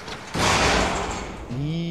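A door slams shut with a heavy thud in the horror video game The Evil Within 2, a loud broadband bang that rings on briefly, followed by a low tonal drone and game ambience.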